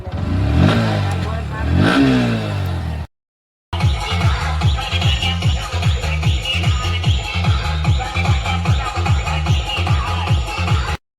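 A new car's engine revving up and down twice, then after a brief gap idling steadily with a rhythmic, pulsing firing beat, loud and close, with voices in the background.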